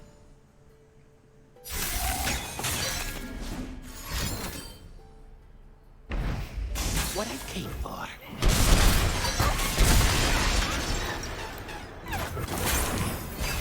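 Glass shatters as a game effect in the Legends of Runeterra card game, several loud crashing bursts layered over background music and someone talking.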